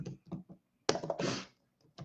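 Someone types on a computer keyboard in short bursts of clicks with pauses between, close up and fairly quiet.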